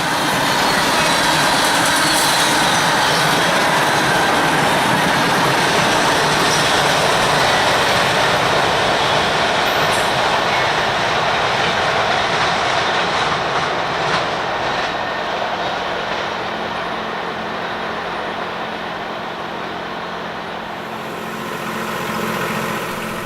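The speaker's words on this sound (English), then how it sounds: "This train had a fairly decent sized cut of Tropicanas, about 35 cars" A long freight train carrying about 35 Tropicana cars rolls past continuously, a loud steady rumble and clatter of wheels on rail that eases slightly toward the end, with no talk.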